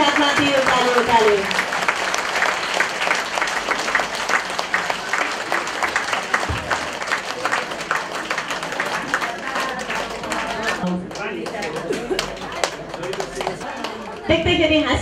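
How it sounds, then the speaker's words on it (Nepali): An audience claps with hands raised overhead during a flower presentation at an event: sustained, loud applause with a brisk rhythm lasting throughout, while a voice talks over it. "ताली दुई हात माथि उकाले उकाले।"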